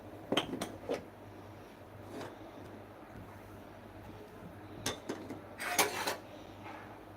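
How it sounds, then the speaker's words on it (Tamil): A metal oil pan set on a stove while making banana flower vada gives a few quick clanks at the start, a quiet pause, then another burst of scraping metal clatter, close and without talk. "எண்ணெய் சட்டி வைக்கிறோம்"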